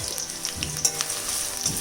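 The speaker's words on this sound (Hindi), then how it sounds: "तो मैंने प्याज डाल दिया, हल्का ब्राउन करेंगे इसको हम।" Onion sizzling and frying in hot oil in a kadhai, a steady crackling hiss with occasional stirring pops, close up and alone without talk.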